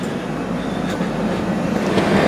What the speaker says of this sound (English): A freight, a nice turned out class 66 there on a freight.